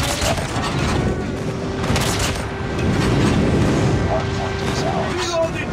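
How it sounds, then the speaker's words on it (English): Airstrike explosions and gunfire erupt in a shooter video game's hardpoint match, loud and continuous with rumbling booms and rapid shots layered together, while game voice callouts sound over the din. "Friendly airstrike is coming."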